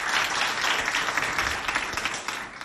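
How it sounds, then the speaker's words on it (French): School audience clapping loudly for pupils called up for a sack race, a thick, continuous burst of many hands that holds steady to the end. "Et on les applaudit bien fort."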